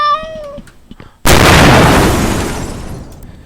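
A cat meows a few times, then a sudden loud explosion bursts in and its rumble slowly fades out.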